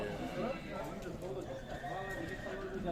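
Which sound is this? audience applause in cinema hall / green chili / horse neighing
horse neighing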